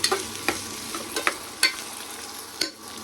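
Mixed vegetables for veg pulao fry in a pan, a continuous sizzle broken by repeated sharp spatula scrapes and clicks at irregular intervals, close up with no voices.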